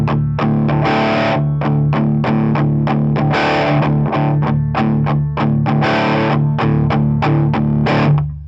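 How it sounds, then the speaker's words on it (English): Heavy distorted electric guitar chugging palm-muted power chords in a steady driving rhythm, loud and continuous with brief accented open strums. "make sure that you really palm mute that because it needs to sound like it's really chugging along there"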